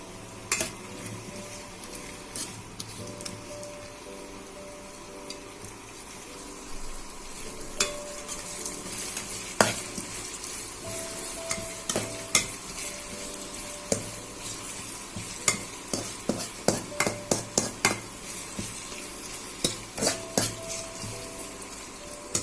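Chopped onions fry in oil in a cooking pot, a steady sizzle under repeated scraping and clinking strokes of a spoon against the metal, the stirring growing busier and more rhythmic toward the end.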